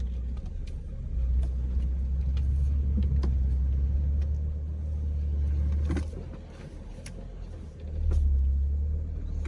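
A car engine rumbles steadily while driving through a Kansas City neighborhood, swelling and easing as the vehicle slows and swings through a U-turn, with road noise throughout and no talk.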